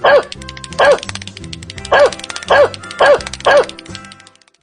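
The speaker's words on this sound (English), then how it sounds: "Dog." A dog barks in a sharp, close series of about six loud bow-wow yips at a steady rhythm, each bark clear and alone against a quiet background.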